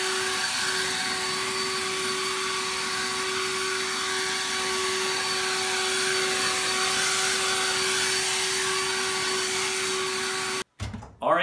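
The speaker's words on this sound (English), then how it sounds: "the Ego blower is also good for moving these guys around" An EGO LB5302 cordless leaf blower, a 530 CFM model from 2016, roars loud and steady at close range for about ten seconds before cutting off abruptly.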